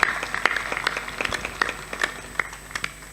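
Listeners at a Hindi religious discourse clap in scattered, uneven bursts, sharp individual claps rising and falling over a faint sustained tone rather than forming a full ovation.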